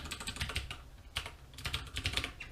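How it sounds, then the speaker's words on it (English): Quick bursts of typing on a computer keyboard while entering a Raspberry Pi setup command, close and crisp clusters of keystrokes with short pauses. "So let me type it out real quick."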